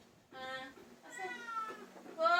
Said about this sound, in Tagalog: Ano yan? Ang pusa na.